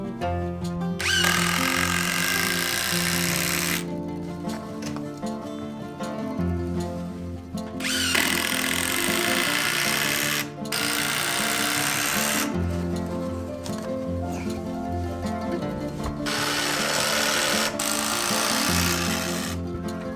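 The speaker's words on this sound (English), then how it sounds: "Attach the joist horizontally with screws." A power drill drives screws into a wooden floor joist during a floor renovation of a 40-year-old house, in several long whirring bursts of a few seconds each, with short gaps between them, over a steady tonal background.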